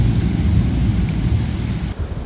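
Heavy rain pours down during a monsoon thunderstorm at a hill home, with deep thunder rumbling continuously beneath the steady hiss of the downpour.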